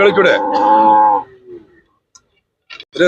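A bull at a livestock trading market lets out one loud, close moo lasting about a second, trailing into a fainter tail, followed by quiet and a few brief clicks.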